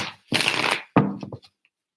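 Tarot cards are shuffled in two quick riffling bursts, the first a dense flutter and the second a sharper snap trailing into a few soft taps, close and loud in an otherwise quiet room.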